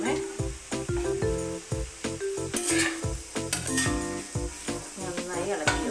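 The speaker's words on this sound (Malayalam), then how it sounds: "ഇനി നമുക്കിതിലേക്ക് നേരത്തെ എടുത്ത് വെച്ചിരിക്കുന്ന പൊട്ടറ്റോ ചേർത്ത് കൊടുക്കാമേ." Potatoes go into a frying pan with chilli powder, and a spoon stirs them against the metal pan, making a steady sizzle under repeated scraping and clinking strokes, close and moderately loud.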